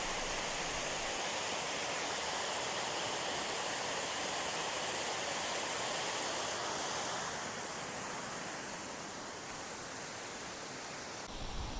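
Water rushes down a narrow forested canyon below Oregon's Multnomah Falls, a steady, faint broadband roar of falling water and stream flow that holds constant throughout with no voices.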